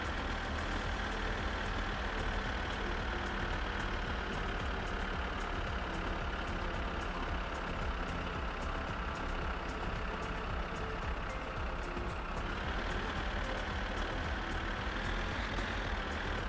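A borrowed tractor's engine runs steadily in the game My Summer Car, a constant droning rumble with a faint high whine, close and unbroken throughout with no talk.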